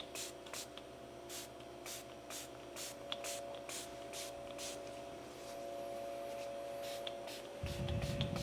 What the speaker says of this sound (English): Now I'm going to go ahead and spray these.